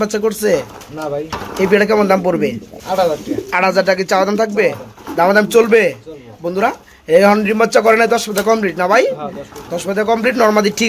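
Pigeons coo repeatedly nearby in soft, throaty bursts, with voices talking over and between the calls, at a pigeon sale.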